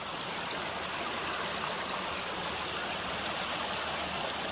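A clear stream runs over rocks toward rapids downstream, producing a continuous broadband rushing and gurgling babble, steady and fairly close, with no voices.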